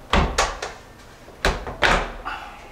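Door of an over-the-range microwave being handled and removed during a microwave replacement, giving a series of loud close thumps and knocks in two clusters, with no speech.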